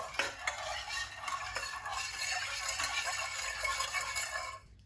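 A spoon stirs an ingredient into milk in a bowl, giving a fairly quiet, continuous scraping swirl with a few light clinks against the side before it stops abruptly.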